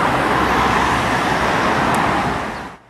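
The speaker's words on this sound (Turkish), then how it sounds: "Tam otoyolunun Düzce ve Bolu kesiminde yoğun trafik gece geç saatlerde başladı." Heavy holiday traffic on the TEM motorway in Turkey at night, a steady dense roar of many cars, buses and trucks rolling past close by, continuous and loud before dropping away at the very end.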